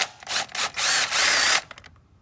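A power tool backs out the coil pack bolts on a Dodge Charger R/T 5.7L HEMI, with short whirring bursts and then a longer steady spin that stops abruptly and leaves near silence.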